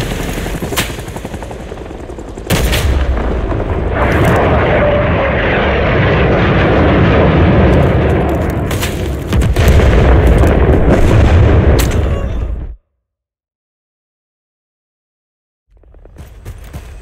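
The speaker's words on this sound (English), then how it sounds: "Napalm inbound, take cover. Bombing run on the back of Charlie, do not push in." Aircraft fly a napalm bombing run in Rising Storm 2: Vietnam. A loud, continuous roar of engine noise and rumbling blasts with sharp gunfire cracks builds, then cuts off into silence before faint noise returns.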